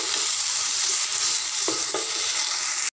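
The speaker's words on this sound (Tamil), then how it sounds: "இது லேசாக பச்சை வாசனை போகிற அளவுக்கு காலிஃப்ளவர் வதக்கலாம்." Cauliflower sautéing in a pan for a cauliflower potato roast, giving a steady close sizzle and frying hiss with a couple of faint stirring scrapes, no talking.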